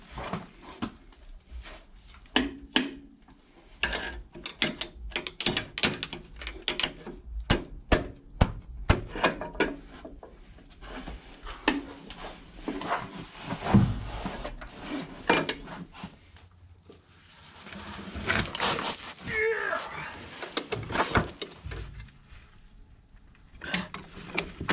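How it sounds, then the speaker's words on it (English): A pipe wrench works a nut on a cracked radiator of a 1950s Cat, giving repeated close metallic clanks, knocks and scrapes in irregular bursts, with a longer grinding rattle near the end. "We're gonna give a pipe wrench another shot now that I've got a little more to grip onto"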